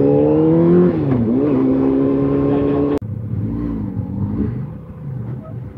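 An Italian vehicle accelerates hard on the Staller Sattel mountain pass road, its engine note climbing loudly and steadily for a few seconds before cutting off into a lower, rougher rumble.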